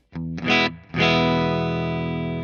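A clean electric guitar, a Gibson Les Paul Supreme in true bypass, plays a couple of short chords, then lets one ring out and slowly sustain, close and fairly loud with no talking.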